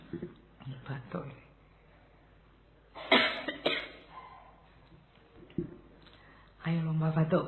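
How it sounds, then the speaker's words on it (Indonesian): During a spoken lecture on love and existentialism, a few short coughing bursts break out, near and moderately loud, with quiet talk and small noises between them. "Batuk."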